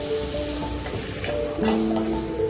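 Tomatoes and curry leaves sauté with turmeric in a pan, giving a continuous close sizzle with faint tonal hum in the background.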